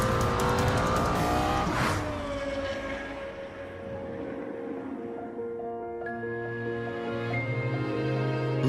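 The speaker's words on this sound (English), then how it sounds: "Highest revving V10 engine in a production car." A Lexus LFA sports car with a high-revving V10 engine drives by, its sharp engine note loud and rising, then easing into a lower, steadier whine with clear tonal harmonics.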